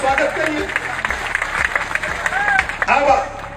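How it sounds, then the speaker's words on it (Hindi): A crowd at a roadside political rally claps in welcome, dense irregular applause close by, mixed with background chatter and crowd noise. "जोरदार ताली बजा के सतीश बंजारा जी का स्वागत करिए"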